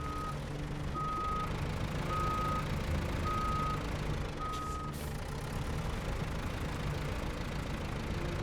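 Aramatsu Forester logging truck engine in the game SnowRunner, a steady mid-pitched idle rumble running throughout with an evenly spaced reversing beep repeating about every second.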